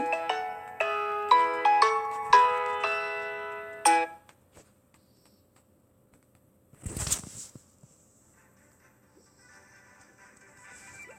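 A phone's incoming-call ringtone plays a bright, melodic chime pattern of quick repeated notes for about four seconds, then stops. Faint background sounds and a brief burst of noise follow.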